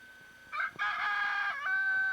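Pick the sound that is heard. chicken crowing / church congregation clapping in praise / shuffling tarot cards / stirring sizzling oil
chicken crowing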